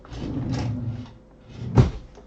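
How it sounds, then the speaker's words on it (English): A kitchen drawer rumbles open with a low sliding sound, then shuts with a sharp knock a moment later, close by and without talk. "Let me just look in my drawer."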